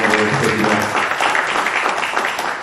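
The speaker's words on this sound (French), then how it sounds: "Merci pour vos applaudissements" An audience in a university lecture hall applauds at an evening debate with dense, continuous clapping that stays fairly loud and fades slightly at the end.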